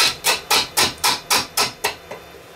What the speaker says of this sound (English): I'm cutting air log a lot of the time, and that's where we're getting that little chattering sort of noise.